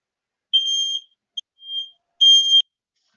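Shrill smoke alarm chirps: three distinct high-pitched beeps of uneven length, one long, a short blip, then another long tone, loud and isolated against silence.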